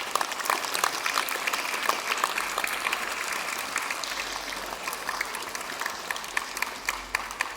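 On the first day of school, a room of school staff and pupils gives itself a round of applause, brisk, continuous clapping with sharp individual claps that carries on throughout, close and fairly loud.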